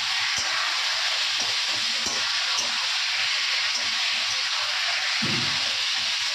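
Sliced potatoes frying in a pan give a steady, even hiss and sizzle throughout, close by, with a soft thump or two underneath.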